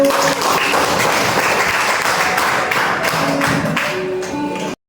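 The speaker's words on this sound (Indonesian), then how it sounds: "Tepuk tangan." A classroom of students claps together in a loud, dense burst for about five seconds, then the clapping stops abruptly.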